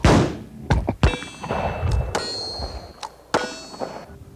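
A six-gun revolver is drawn from a leather holster, producing several sharp metallic clanks and ringing dings spaced irregularly, close and distinct with no speech.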